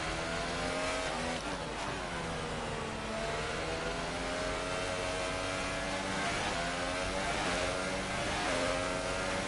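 F1 car engine at full throttle in the F1 2018 video game, a loud sustained high-revving whine with pitch sweeps through gear changes and corners, heard alone without talk.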